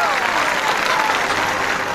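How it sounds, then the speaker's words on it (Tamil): Loud, steady applause from a large audience on the TV show Bigg Boss 8 Tamil fills the whole moment, with a dense crowd texture throughout. "எப்பவும் போல வெளியில இருந்து பயங்கரமான கரகோஷம்"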